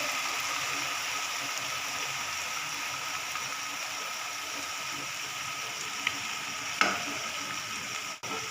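Loud, steady sizzling of boiled chickpeas frying in hot masala in a pan, continuous and close, with a couple of brief clinks near the end.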